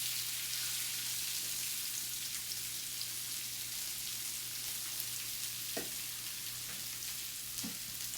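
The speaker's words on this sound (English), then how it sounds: "On the same grill with all that flavor that came off the steak, my vegetables are going on." Vegetables laid on a grill still coated with steak juices give off a steady, quiet sizzle, continuous throughout with a few faint crackles and pops.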